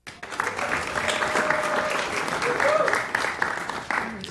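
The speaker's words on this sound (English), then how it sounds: "Thank you for clapping when you don't feel like it." Audience applause in a city council chamber during a meeting, steady sustained clapping from the crowd at moderate loudness, with faint voices and tonal sounds mixed underneath.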